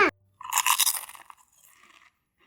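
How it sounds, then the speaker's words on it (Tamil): Crisp crunching bites of fried mushroom, a sharp, close chewing crunch lasting about a second before fading into softer mouth sounds, with no talking. "மஷ்ரூம் ஃப்ரை சூப்பரா இருக்கு. இப்போ டேஸ்ட் பண்ணிக்கலாமா?"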